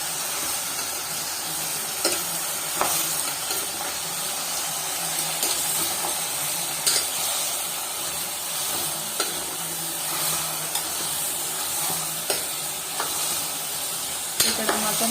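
Mutton curry frying and sizzling in a pan while being stirred, a steady close hiss with occasional scraping clicks of the spoon, no talking.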